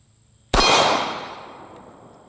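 A single sharp report from an FP-45 Liberator single-shot pistol fired one-handed at a target about 10 yards away, with a ringing metallic tail that fades over the next two seconds.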